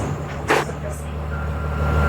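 A converted bus used as a race car hauler idles and rolls with a low steady diesel rumble heard from inside, with a brief sharp hiss of air near the start.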